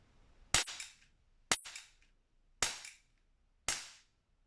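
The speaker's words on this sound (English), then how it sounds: "I do like shooting this gun. So it's a small pistol." Four sharp reports from a small pistol at an outdoor shooting session, spaced about a second apart, each a loud crack with a short decaying echo, no talking.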